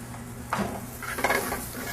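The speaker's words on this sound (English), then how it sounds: "we sweat the onion out with the ginger, garlic, and the spices" Onions sweating with ginger, garlic and spices in a pan for paneer masala: close metallic clanks and scrapes of a spoon against the pan over a steady low frying hiss, with no talk.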